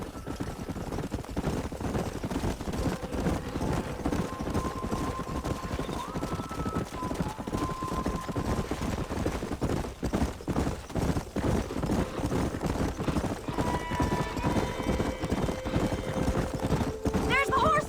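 Horses gallop and whinny in the Western video game Red Dead Redemption, a dense, rapid clip-clop of hooves throughout with occasional neighs and brief voices over the hoofbeats.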